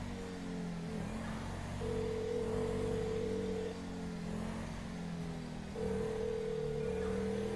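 An in-game phone in GTA V places a call, sending repeated steady tones that come and go over the low hum of a car engine.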